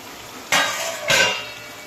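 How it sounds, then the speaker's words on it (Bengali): A metal lid comes off a pot of prawns simmering with potatoes and banana stem, making two brief, close scraping clanks half a second apart, each trailing off into a soft hiss. "এবার আমি একটু দেখে নেব ঢাকাটা খুলি"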